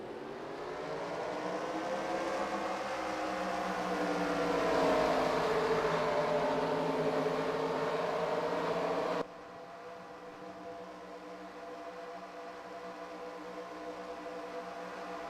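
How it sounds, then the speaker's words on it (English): Race car engines hum and drone as cars roll out for a pace lap at Atlanta in a stock car racing video game, a steady layered tone that rises in pitch, then drops abruptly and continues more quietly. "So the cars are all rolling out for their one pace lap around this racetrack."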